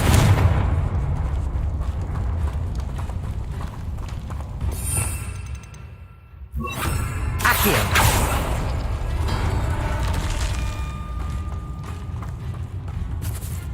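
Confringo fire spell explosions in Hogwarts Legacy: loud broadband blasts around the middle and again shortly after, set against a dense, rumbling game soundscape.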